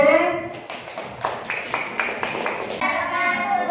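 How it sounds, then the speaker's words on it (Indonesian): A classroom audience claps for a student group after its presentation at a university teaching practice session, a short burst of scattered, uneven hand claps with a voice speaking over the start. "Beri tepuk tangan kelompok B"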